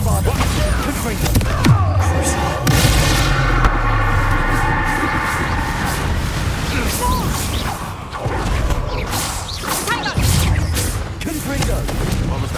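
Spell blasts from Bombarda and Confringo in the video game Hogwarts Legacy: dense, loud repeated booms and crashes with whooshes, layered over busy game music and effects throughout.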